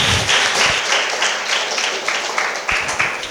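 Audience clapping for the toppers at a white coat ceremony, a broad, steady round of applause from a crowd filling the whole stretch with dense, sustained hand claps.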